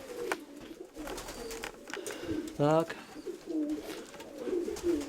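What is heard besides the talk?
pigeons cooing in a loft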